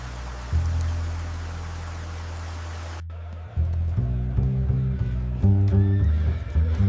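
A horse neighs near the Imperial horse stables by the Circus Maximus in ancient Rome, a loud, close whinny over steady street ambience, followed by a sharp cut into music-like tones.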